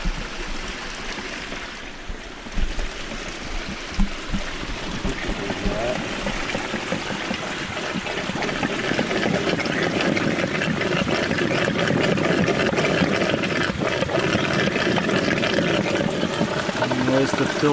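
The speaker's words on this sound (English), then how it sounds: "You can hear that slurp, almost like a slurping sound." Water rushes and gurgles steadily as a spring water filter line slurps and sucks up water from a gulch, a continuous close watery roar with a low hollow sucking quality and no talk.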